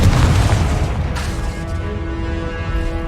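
A Confringo fire spell blasts in the Hogwarts Legacy video game, a loud, booming explosion at the start that rolls into a sustained, rumbling roar and decays over about three seconds.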